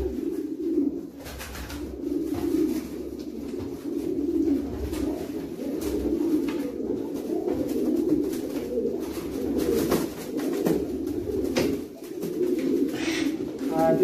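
A checkered long-distance breeder pigeon coos in low, throaty rolling phrases, close and continuous, with someone talking faintly in the background.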